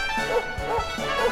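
Dog barking in a video game, a few yipping barks repeating in a loose rhythm over a steady tonal game soundtrack, moderately loud and close.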